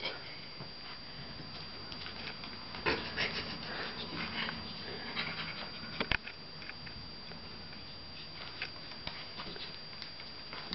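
A small puppy pants quickly and softly near the microphone, a faint, rhythmic huffing over quiet room noise, with a few light taps and rustles.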